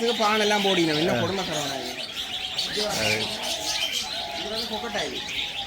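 A mix of birds at a zoo-like aviary, including pigeons and doves along with lovebirds and other small birds, chirping and calling continuously with some cooing, close and fairly loud, with voices mixed in.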